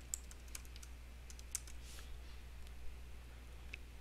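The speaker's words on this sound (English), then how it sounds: "I can type that in the search field" Faint keystrokes on a computer keyboard as a short query is typed into a search field, a sparse scatter of soft clicks over a steady low hum with no talk.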